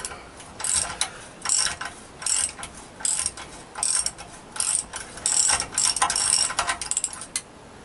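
A ratchet clicks in repeated bursts while undoing a long exhaust header bolt on a Honda CBR1000F motorcycle, up close and fairly loud with short pauses between strokes.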